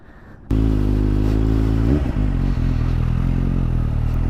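A Suzuki motorcycle engine starts up abruptly and runs loud and steady, recorded close up while riding, with a brief dip and shift in the engine note partway through.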